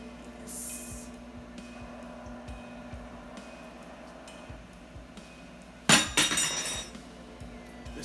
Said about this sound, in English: Dropping the spoon instead of dropping the mic